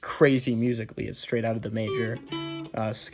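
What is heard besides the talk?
No distinct noise like a dog, phone or traffic.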